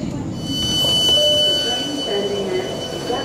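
A Tyne and Wear Metro train pulls away from Monument station, with a steady low rumble and a faint high whine rising and settling, close and continuous throughout.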